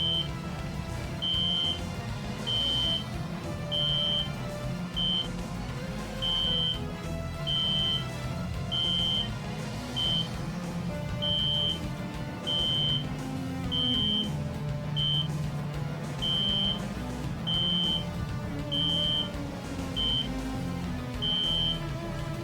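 An electronic alarm in the video game Phantasy Star Universe: Ambition of the Illuminus, a high beep repeating roughly once a second for the whole stretch. It sits over a dense, steady game soundscape, and nobody talks.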